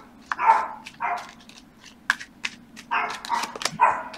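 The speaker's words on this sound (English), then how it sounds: "I'm sorry for the dogs barking." Dogs bark close by in repeated sharp bursts, some barks clustered and others spaced apart, with no talking over them.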